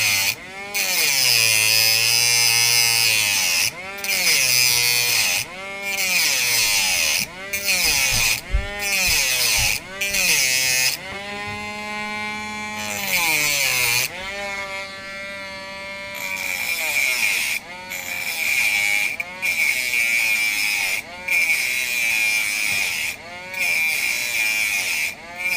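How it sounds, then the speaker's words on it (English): A Dremel rotary tool cuts into a Hot Wheels toy car, a loud high-pitched whine that repeatedly bogs down and revs back up as it bites, in short stop-start bursts with no talk. "hopefully the Dremel's got enough charge"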